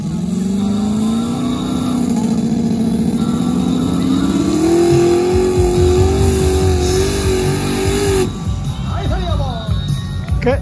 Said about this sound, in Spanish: Qué duro camina ese carro, man.